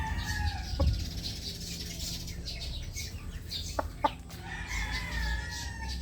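A gamefowl rooster with a small straight comb clucks nearby in short, scattered bursts, with a couple of sharper calls over a low outdoor background.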